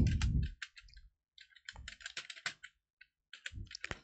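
Someone types CSS code on a computer keyboard, producing close, crisp clicking keystrokes in quick clusters separated by short pauses, with a few heavier thumps, likely the spacebar or Enter.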